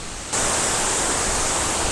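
A waterfall in Meghalaya roars as a steady, dense broadband rush. It is loud and close, and it swells in at the start and then holds constant with no voices over it.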